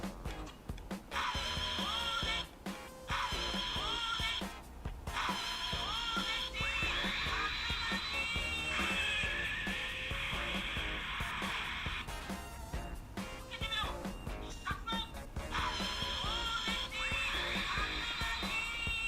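A Soul of Chogokin Combattler V toy plays its finishing-move sound effect, a loud electronic sequence of bright synthesized tones and effects, with voices that may be recorded lines from the toy, lasting close to twenty seconds.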